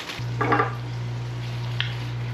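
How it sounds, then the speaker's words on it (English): Sliced onions and chopped poblano pepper in a hot pan, giving a steady moderate sizzle over a constant low electric hum, with a couple of soft stirring scrapes near the start. "Next we're gonna go in with the onions we sliced on the mandolin."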